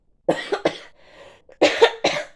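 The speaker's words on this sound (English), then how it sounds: "sorry for the coughing" A series of harsh coughs, close and loud, coming in two clusters with a short breathy pause between them.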